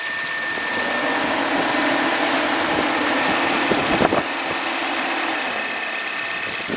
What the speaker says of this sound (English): So I confirmed my engine cooling fan works.